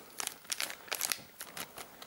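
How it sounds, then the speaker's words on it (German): A small plastic zip bag holding Game of Thrones character cards crinkles in bursts of sharp rustling, fairly quiet and close, with no speech. "Hier finden wir in einer kleinen Zip-Tüte kleine Charakterkarten."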